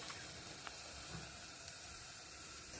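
Fish roe fritters (pakora) sizzle steadily in hot oil, a constant close crackling hiss with a few faint pops and no voices.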